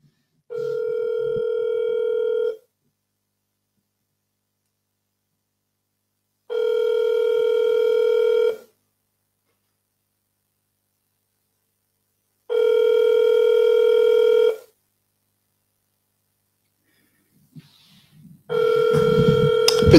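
A telephone line sounds while calling in to a live broadcast: three long, loud ringback tones separated by silence, followed by a burst of noise.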